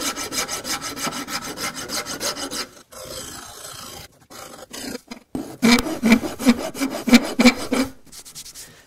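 A Liogier hand-stitched rasp files wood against the grain in loud, close, rough rasping strokes that come in bursts, pause, then return as a quicker, choppy series of scrapes.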